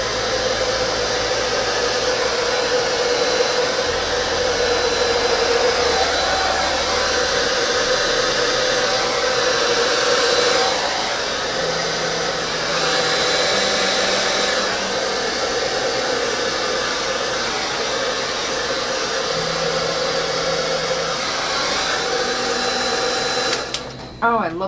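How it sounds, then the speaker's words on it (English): A hair dryer on low speed blows over a ten-color pink Dutch pour acrylic painting on a white background, giving a steady close whooshing hum with slight shifts in pitch. A voice talks over it at times, and the dryer cuts off abruptly at the end. "Oh, I love this new dryer."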